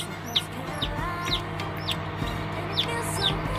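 Young chicks on a small organic farm that raises ducks and chickens, giving repeated thin, high downward peeps every half second or so over a steady low farmyard hum.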